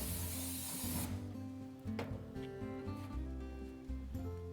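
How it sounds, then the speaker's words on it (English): Cooking spray hisses onto a grill in one loud, close burst lasting about a second before the grill is used for lake trout. Background music plays throughout. "you're gonna want to spray the grill so it doesn't stick."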